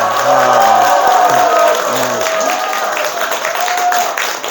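A crowd gathered for a dharma talk in a packed temple hall claps and cheers briefly, a loud burst of applause mixed with voices and a few calls that lingers for several seconds.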